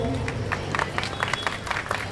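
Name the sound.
audience applause for a game show contestant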